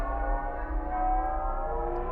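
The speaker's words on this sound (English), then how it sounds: "And the bells are being distorted" Distorted bells in Geometry Dash level music ring out as sustained, buzzing, layered tones that drone steadily throughout, with no talking.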